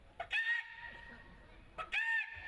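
Two drawn-out chicken squawks, evenly spaced, loud and close, with quiet between them.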